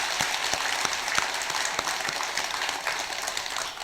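Applause from a congregation at a Korean Buddhist first-day-of-the-month dharma service. Many hands clap in a dense, even wash, with a few sharper individual claps standing out over several seconds.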